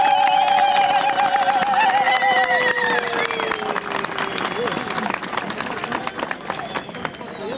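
A rally crowd in Turkey applauds and ululates, with loud wavering high-pitched trills rising over dense clapping and crowd noise that carries on steadily to the end.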